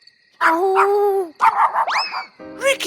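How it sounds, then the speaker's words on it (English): Cartoon dog barking and howling in an animated kids' show, a loud sustained howl followed by several sharp yips and a rising whine, close and alone without speech. "With this dog barking all night?"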